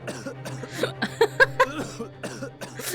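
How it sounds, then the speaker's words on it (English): A stock video-game cough sound effect: a short burst of several sharp, voiced coughs near the middle, with softer throat noises before and after over a faint steady hum. "It's the most, like, stock-sounding cough sound I've ever heard in my life."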